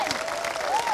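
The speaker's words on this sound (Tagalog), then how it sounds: "Mahinang palakpak yan." Weak, scattered applause from a church congregation during a Sunday worship service, a thin patter of clapping held at a steady low level for under a second, with a faint whistle-like tone drifting over it.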